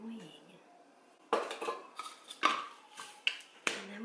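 Sugar is sifted for baking in a home kitchen, producing irregular metallic clinks and rattling taps from the sifter, some sharp and close, over a quiet background with a voice faintly present.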